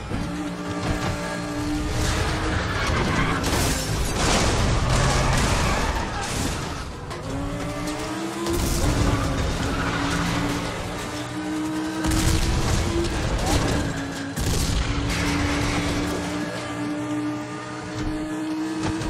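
Racing action in the video game Need for Speed The Run: continuous loud engine roar and rumbling blasts with crashing debris, sustained and dense throughout with music-like tonal layers, no speech.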